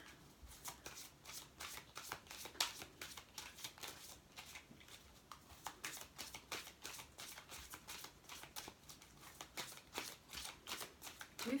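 Playing cards being shuffled for a tarot-style card reading, a steady run of quick riffling flutters and soft slaps repeating close up through the whole stretch with no talk.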